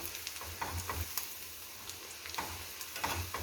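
Baby potatoes frying in hot oil, a steady soft sizzle with scattered light pops and crackles throughout, fairly quiet and close, without voices.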